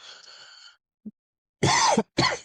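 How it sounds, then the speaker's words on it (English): Someone coughs twice up close, two loud harsh bursts following a faint breathy sound and a tiny click, with no speech. "excuse me, coughing"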